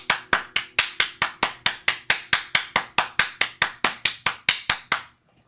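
Loud, rhythmic hand claps in a steady beat, roughly four per second, close and crisp with a faint tone underneath, stopping abruptly near the end.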